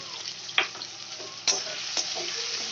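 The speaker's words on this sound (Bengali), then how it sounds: "কাজুটাও এটার সঙ্গে দিয়ে ভালো করে ভেজে নেব" Cashew nuts sizzle gently in a pan while a spoon scrapes and taps the pan a few times.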